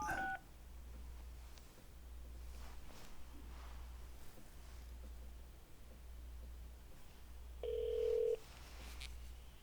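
Touch-tone telephone keypad tones sound in short spaced bursts, a louder beep near the end, over a steady low hum with faint rustling and no talking.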